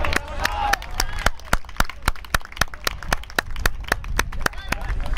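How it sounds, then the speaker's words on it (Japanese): Spectators at a rugby match at Tsurumi Ryokuchi stadium clapping for both teams, sharp, evenly spaced claps ringing out over a murmuring crowd. "皆様、激戦を戦い抜いた両チームの選手に今一度大きな拍手をお送りください。"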